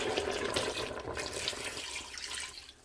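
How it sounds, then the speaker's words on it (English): Water running from a tap into a pot of Nigerian catfish pepper soup, a steady close gushing pour that tapers off at the end. "So what we are going to do is add in more water."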